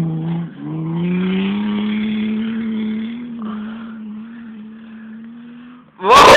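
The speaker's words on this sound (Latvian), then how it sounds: "Un te brauc Moskavičs un Bembis no muguras." Moskvich and BMW cars racing around a track in rural Latvia, engines droning steadily at close range for several seconds, dipping briefly, then a sudden loud burst of noise at the end.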